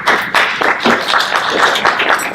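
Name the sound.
applause after the invocation at a swearing-in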